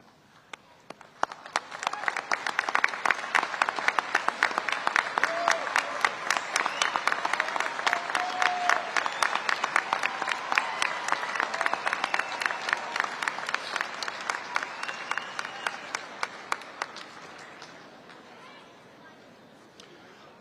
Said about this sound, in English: Please stand at this time so that we may give you a round of applause.